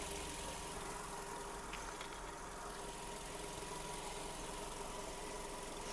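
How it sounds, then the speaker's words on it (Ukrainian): A 2009 Skoda Octavia A5 1.6 MPI petrol engine idles steadily with a low, even rumble and faint mechanical ticking, no voices over it. "Робота двигуна. Двигун працює чітко."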